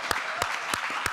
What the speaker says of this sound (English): the penultimate bit of applause I'd like before Ben comes on, and you'll give him a massive round of applause at the end, is for Elliot